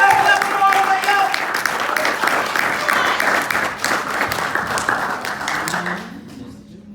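Applause and clapping from an audience at a poetry slam, a dense, loud wash of many hands that carries on steadily and then thins out and fades near the end.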